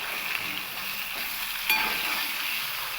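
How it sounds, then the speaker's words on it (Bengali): Oil frying with salt and ground turmeric in a pan while preparing a hilsa fish curry, a steady soft sizzle with a brief louder crackle partway through, no talking. "লবণ আর হলুদ গুঁড়ো দিয়েও আমি তেলের সঙ্গে একটু ভাজা ভাজা করে নেব"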